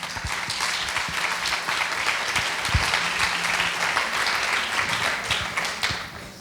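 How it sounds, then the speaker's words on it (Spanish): Audience applause for a speaker at a gifted-education symposium panel discussion, steady dense clapping from a crowd filling the hall for about six seconds before tapering off at the end. "Un aplauso para Yolanda."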